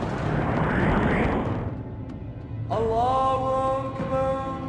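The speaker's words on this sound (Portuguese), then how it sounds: "Essa explosão pareceu uma explosão sônica." A loud, deep boom from an exploding asteroid rolls out for a couple of seconds and fades, then gives way to a steady mid-pitched drone with voices over it.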